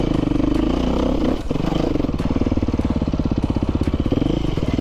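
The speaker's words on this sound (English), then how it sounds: "Tom's riding, I think like a 14 or a 15 KTM 500" A 2014 or 2015 KTM 500 dirt bike engine on an uphill trail, loud and close, with a steady throbbing exhaust that dips briefly then settles into a fast, even pulsing beat.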